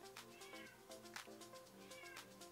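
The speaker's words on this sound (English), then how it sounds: "Do you hear my cat?" A domestic cat meows softly several times in a row, faint and somewhat distant in a quiet indoor room.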